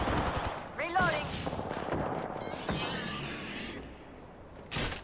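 Video game gunfire cracks through several rapid bursts, with a busy mix of shots, mechanical clatter and effects, and a brief loud report near the end.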